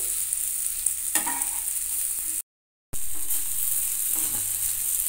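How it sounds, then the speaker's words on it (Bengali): Okra fries in oil in a pan over a medium gas flame, giving a steady, close sizzle that runs throughout, broken once by a brief silent gap. "ভেন্ডিগুলো লাল করে ভাজতে হবে।"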